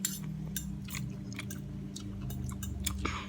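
Close-up chewing of fresh, hot fried pork, with a steady run of crisp, crunchy bites and wet mastication over about three seconds. No talking.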